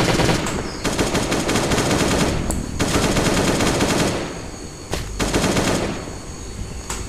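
M16 machine gun fire in the game Last Day on Earth: Survival, several loud sustained bursts of rapid shots separated by short pauses, close and dominant.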